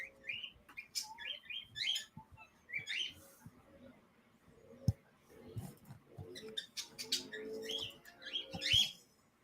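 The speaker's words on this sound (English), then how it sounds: "you should see the look my bird's giving me when I said I wanted to love on Blue." A pet bird chirps in short, high, scattered bursts and tweets at close range in a quiet room, with soft rustling and small knocks between calls.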